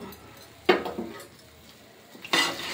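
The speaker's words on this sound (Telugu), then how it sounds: "ఇలా బాగా కలిపేసుకోండి" Jaggery powder is stirred into wheat rava kesari in a pan. A spoon knocks and scrapes against the metal in a few distinct bursts separated by quieter moments, close up, with no talking.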